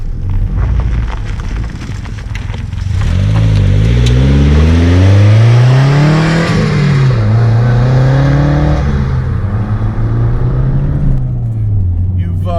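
A 1993 Toyota MR2 Turbo engine revs and pulls hard under acceleration, its pitch climbing and wavering through several gear-like swells for over ten seconds, close and loud, with a voice talking faintly underneath.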